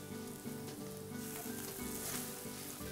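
Mushrooms sizzle steadily in a frying pan at a low, even level, and a continuous hum runs underneath.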